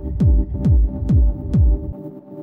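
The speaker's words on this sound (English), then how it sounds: "Add an echo as well." Four evenly spaced, loud dub techno synth pulses drenched in echo and long reverb, each dropping into a deep thud, then cutting to near silence.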